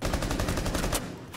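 A fast, regular burst of close gunshots that rattles off in quick succession and stops abruptly, with one last shot after a short gap.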